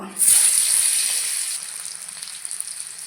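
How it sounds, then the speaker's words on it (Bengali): Potatoes fry in hot oil for a Bengali koi fish curry, a sharp sizzle bursting in loud near the start, then settling into a steady, gradually fading crackle with no voices. "মাছের ঝোলে আমি একটা আলু দিব আলু ভেজে নেব"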